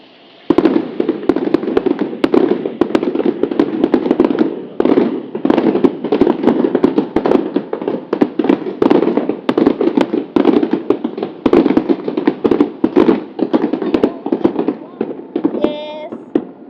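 New Year fireworks bursting over Macau, a dense, continuous barrage of sharp cracks and booming pops close by, with excited voices and cheering mixed in throughout.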